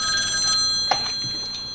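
An old telephone bell rings at home with a bright, shrill, continuous trill, fairly steady and close, alone without voices.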